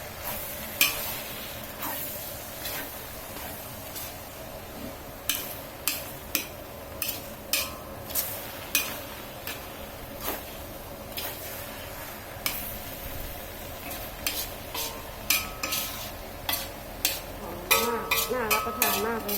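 Minced pork larb with makhwaen pepper stir-fried in a pan: a steady low sizzle runs throughout, broken by frequent sharp spatula scrapes and taps against the pan in an irregular rhythm, close and clear with no talking.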